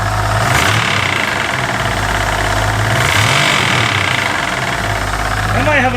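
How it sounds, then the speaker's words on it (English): A Ford Ranchero engine with a freshly installed remanufactured pump revs steadily and loudly, a deep rumbling idle swelling slightly with a faint knocking undertone and a rattling vibration throughout. "Give it a little rev."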